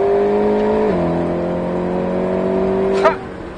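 An Alpine A110S engine holds a loud, steady drone on a race circuit, the pitch dropping briefly around a gear change before settling again, recorded close from inside the car.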